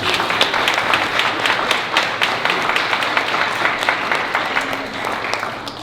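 Warm audience applause at a Kwanzaa celebration, steady clapping from a crowd throughout, easing slightly toward the end.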